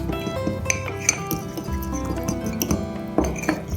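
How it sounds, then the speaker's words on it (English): Mug cake batter of melted butter and milk is stirred in a mug, giving a steady run of light clinks and scraping taps of a spoon against the sides, close and fairly quiet, with no talking. "we're just going to stir this until there's no lumps left inside it"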